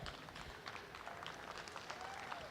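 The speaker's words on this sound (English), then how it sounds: "Give a big round of applause" Applause from spectators at a Junior Holstein four-year-old cow show, soft and distant, a thin scattering of claps running steadily throughout.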